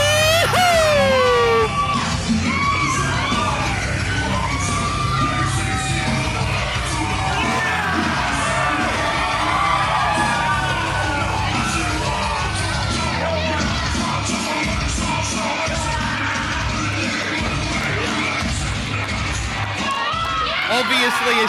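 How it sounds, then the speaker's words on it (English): A wrestling show crowd cheers and yells loudly, a dense wash of shouting voices and whoops that carries on steadily throughout. "folks, can I get a cheer?"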